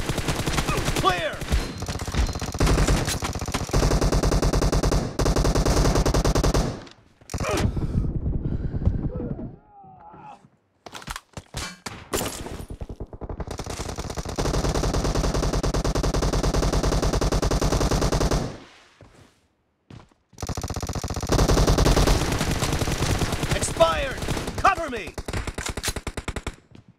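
Sustained automatic gunfire rattles through a team deathmatch video game in long dense bursts separated by short silent gaps, loud and close, with players shouting in between.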